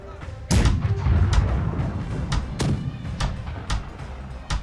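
Ship cannons boom in Blackwake, a naval battle game: a heavy blast opens, then a string of sharp, loud shots at irregular intervals, with faint voices underneath.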